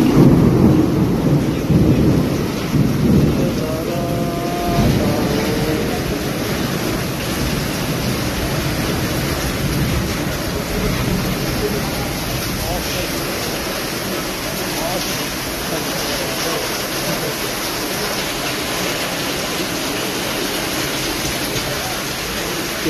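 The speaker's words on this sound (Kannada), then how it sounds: "ಇರಾಜೆ ಬೆಟ್ಟೆಯಲ್ಲಿ ಧಾರಾಕಾರ ಮಳೆ ಗಾಳಿ ಗುಡುಗು ವಿಪರೀತವಾಗಿ ಸರಿತಾ ಇದೆ" Heavy downpour with wind and thunder in Virajpet, Kodagu, a dense steady roar of rain throughout with low rumbling early on and a voice briefly heard near the start.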